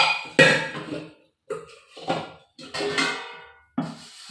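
Dishes, plates and ladles being scrubbed and knocked together by hand, a few separate clattering scrapes and clinks with short pauses between them, close and fairly loud.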